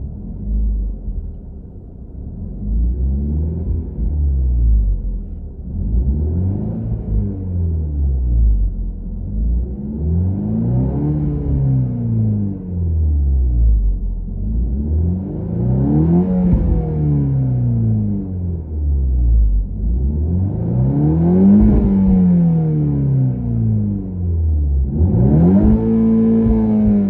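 A VW T-Roc R (300 PS) engine with Akrapovic exhaust in race mode revs repeatedly in rising and falling sweeps, each roar climbing then dropping, loud and close with no talking.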